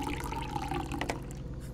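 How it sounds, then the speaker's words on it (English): Water is poured into a Keurig coffee maker in the video game Fears to Fathom: Woodbury Getaway, a steady, close trickle with light splashes that ends in a sharp knock. "Maybe I have to fill this up with water."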